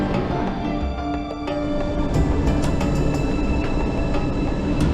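An MRT-3 train runs on EDSA in Manila, giving a loud, continuous rumble and hum of the railcars with faint clicks and squeals, heard up close with no talking.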